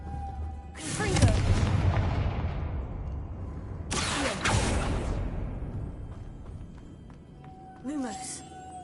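Confringo explosive spell blasts in Hogwarts Legacy: two loud booming bursts with rushing, fading whooshes a few seconds apart, followed by a shorter sharp crackle near the end.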